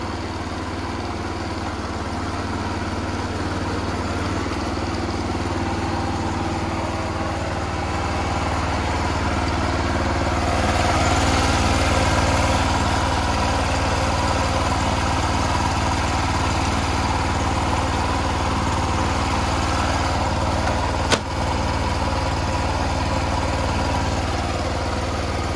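A Kobelco SS1 compact hydraulic mini excavator engine idles and rumbles steadily while driving backwards, growing slightly louder midway, with a brief sharp click near the end.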